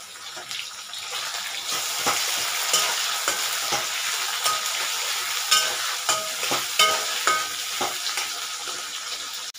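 Chopped tomato frying in a pan for a Bengali egg and potato curry, stirred with a utensil: a constant close sizzle with a steady crackle and repeated scraping stirs, no talk.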